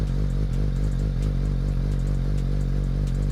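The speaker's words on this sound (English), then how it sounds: "Let's rev it up." A Suzuki GSX-S750Z motorcycle fitted with a Yoshimura AT2 exhaust runs with a deep, steady, bassy engine drone, loud and close, holding an even tone with slight pulsing throughout.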